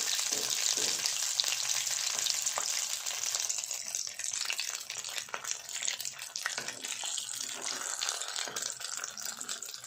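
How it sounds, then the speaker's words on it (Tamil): Egg fingers deep frying in hot oil over a medium flame, a dense, bright crackling sizzle that runs continuously and close, strongest at the start and settling slightly later, with no voices. "இப்போ வந்து நம்ம டிப் பண்ணி வச்சுருக்க இந்த எக்கை வந்து அப்படியே உள்ளே போட்டு ஃப்ரை பண்ணிக்கலாம்"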